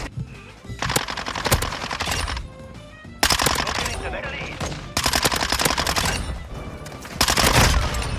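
Minibak submachine gun in Modern Warfare 2, the Unhinged variant, firing in four sustained full-auto bursts with brief gaps between them, loud and close, with possible faint talk.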